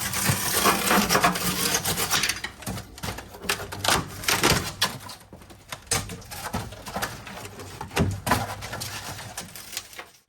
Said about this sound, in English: scraping it all back and kind of cleaning the steel up as much as I can with some scrapers and some wire, wool